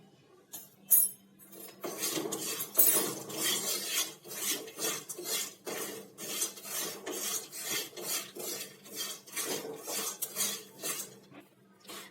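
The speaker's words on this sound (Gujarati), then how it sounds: "અને આ બધા જને સરસ રીતે હલાવીને મિક્સ કરી લઈશું।" A spoon scrapes and stirs masala peanuts with powdered sugar and spices in a bowl, giving repeated rhythmic gritty rasps and clinks at close range, with no talking.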